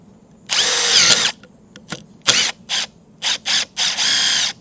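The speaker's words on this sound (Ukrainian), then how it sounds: "треба ще одну пробну взяти дошку і попробувати зробити цю дирку і загнати туди в холосту цей шуруп" A power drill bores a hole in a wooden test board, then a screw is driven in with several short, loud bursts of motor whine separated by brief pauses, close up with no talk.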